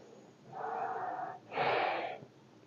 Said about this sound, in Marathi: पोटाला झटका दिला की पोटात श्वास बाहेर पोटात श्वास बाहेर